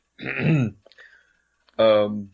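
A voice imitates a small cough after gulping down wine: two short, close throat-clearing bursts separated by a brief quiet gap, with no other sound around them.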